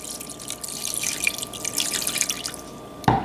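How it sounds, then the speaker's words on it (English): Water pours and trickles steadily into a pot of groundnut soup nearby, with a faint steady hum behind it and a brief clunk at the end. "I'm going to go ahead and add a little water to it for it to cook."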